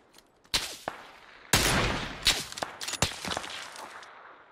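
Several sharp sniper rifle gunshots in PUBG crack out close by in quick succession, followed by a scatter of lighter impacts and clatters as the echoes fade.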